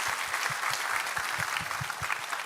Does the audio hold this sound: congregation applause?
yes